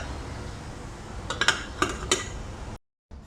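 Metal lid set onto a cooking pot of boiling eggs and vegetables in a home kitchen, three or four quick clinks and rattles against quiet background noise, then an abrupt cut to silence.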